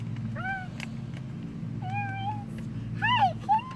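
A cat meows several times in short, rising and falling calls, moderately close, over a low background hum with no talking.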